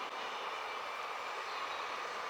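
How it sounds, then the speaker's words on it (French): An RER commuter train passes nearby as a steady, even broadband rumble and rush that holds at one level throughout, with no talking over it. "J'attends que le RER passe."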